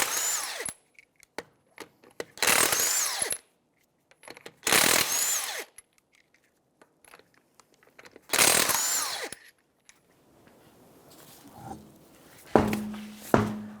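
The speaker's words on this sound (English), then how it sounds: "21mm socket, we're going to remove the lug nuts on the front tire" An impact gun with a 21mm socket spins lug nuts off the front wheel of a 2009-2014 Nissan Maxima in four loud, close, rattling bursts separated by pauses, followed by softer clanks and handling.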